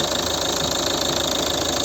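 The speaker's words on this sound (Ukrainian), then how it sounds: "Старий надійний перевірений двохлітровий Common Rail дизельний двигун" A 2009 Volvo V50 2.0-litre common-rail diesel idles with its bonnet open, a steady close-up clatter with an even rapid knock and no pauses.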